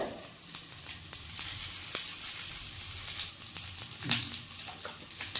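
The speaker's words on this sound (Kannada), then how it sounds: "ಶುಂಠಿ ಪಾಡ್ದೈತೆ ಮತ್ತೆ ಕರಿ ಲೀವ್ಸ್" Ginger and curry leaves sizzle in hot oil in a frying pan, a close, steady crackling hiss with small pops and stirring clicks and no voices.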